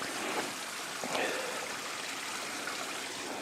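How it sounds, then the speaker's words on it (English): A small outdoor stream runs steadily, its water rushing and trickling in a continuous wash of sound with no voices over it. "I love the sound of flowing water."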